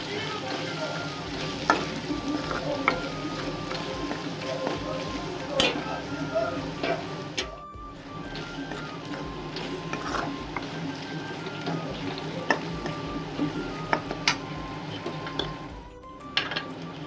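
Mutton head meat frying in a pan gives off a continuous close sizzle, with frequent scraping and clinking as a spoon stirs it, and two short pauses along the way.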